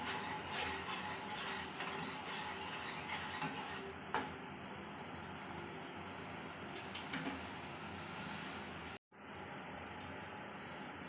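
Tea with sugar being stirred in a pot on the stove, soft scraping and light metallic clinks of a spoon against the pot over a steady low background hiss, one brief drop to silence.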